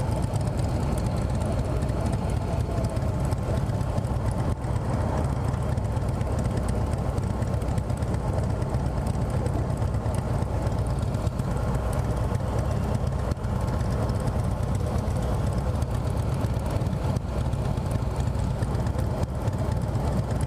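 A Harley-Davidson Softail Slim S with a Milwaukee 8 engine runs steadily, its deep, even engine rumble close and continuous throughout.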